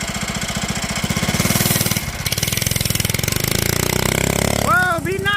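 A Bolens Husky 800 garden tractor engine, parked for 14 years, runs loud and steady with a pulsing low chug. A voice talks over it, and a brief rising mechanical squeal comes near the end.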